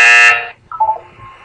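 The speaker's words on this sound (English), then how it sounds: "You will hear a buzzer." A loud, harmonically rich electronic buzzer from the video game Portal 2 sounds for about half a second, then cuts off, followed by a brief, fainter pair of tones.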